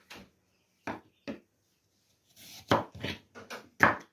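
A knife chops cucumbers on a board for quick lightly salted pickles: a few sparse, separate cuts, then a quicker cluster of sharp chops near the end, close and clear with no talking.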